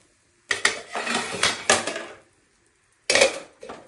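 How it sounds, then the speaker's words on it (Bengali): A lid goes onto a cooking pot of mutton with a sharp metallic clatter and a short rattling settle. A second, briefer clank follows after a quiet pause, close and clear. "এভাবে ঢাকনা দিয়ে দিচ্ছি।"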